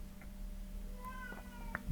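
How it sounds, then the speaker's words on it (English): A cat cries indoors with a few faint, short meows over a low steady hum, followed by a sharp rustle or thump at the very end. "we have a crying cat and"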